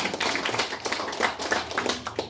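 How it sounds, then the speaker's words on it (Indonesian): A crowd applauding at an East Nusa Tenggara provincial council commission visit in Kupang, with dense, continuous clapping from many hands and no voices over it. "Kita beri tepuk tangan."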